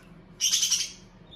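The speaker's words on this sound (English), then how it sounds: "And my bird approves." A pet bird gives a short, bright chirping call of about half a second, heard indoors at moderate distance in a quiet room.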